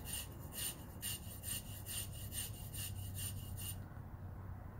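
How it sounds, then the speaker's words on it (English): Fabric of trousers scraped with a tool to make tinder: a close, steady rasping stroke repeated about a dozen times at an even rhythm, then stopping, leaving a quiet hiss. "So we can just scrape our pants."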